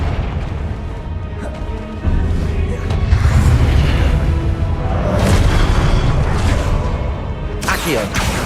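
Confringo fire spell cast repeatedly in Hogwarts Legacy, bursting in loud booming blasts over a continuous rumble, with a spoken incantation shouted between them.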